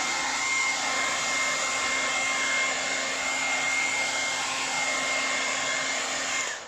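A hair dryer blows steadily on paint laid over liquid latex, a continuous close whirring drone with a high motor whine that holds level throughout, then cuts off at the end.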